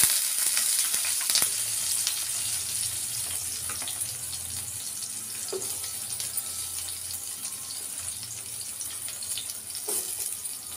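Garlic, chili and onion sizzle steadily in hot oil in a pan while cooking oats khichdi, a close, constant frying hiss broken by a few soft clinks of stirring.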